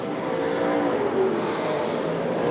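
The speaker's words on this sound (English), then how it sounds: "Pagel stood on the gas, banged it on the limit up on the inside of Christensen" A super sedan race car accelerates hard around Archerfield Speedway during a night national title race, its engine a loud sustained roar rising slightly as it passes.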